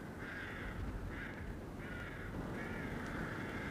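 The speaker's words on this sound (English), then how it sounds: "Yes, those are rooks." Rooks caw in a series of harsh, rasping calls, some drawn out, over a quiet outdoor background.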